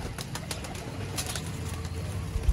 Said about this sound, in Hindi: दुबई वाले दोस्तों टेडी कबूतर आपकी आंखों के सामने है।